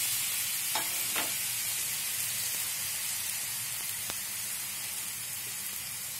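Red chili paste fries in a hot oil tempering of cumin seeds, mustard seeds and curry leaves, a steady soft hiss and sizzle with a few brief sharp crackles and no talking.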